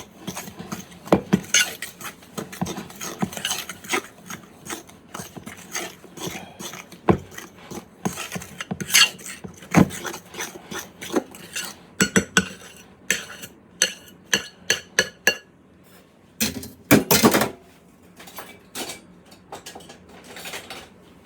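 Knotweed being mixed with other ingredients in a bowl just barely big enough, with an irregular run of clinks, scrapes and knocks of a utensil against the bowl over about twenty seconds, close and fairly loud.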